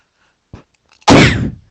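A person sneezes once, sharp and close, after a brief soft inhale, indoors.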